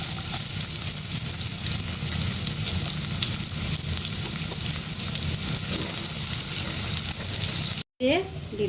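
Chopped onions frying in hot oil in a pan, a steady loud sizzle and crackle throughout that cuts out briefly near the end.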